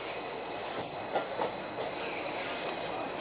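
A passenger train rolls along the rails in Punjab after leaving Abohar, following a loco reversal, on the Bathinda to Fazilka line: a steady, close rumble with faint clacking from the wheels running throughout.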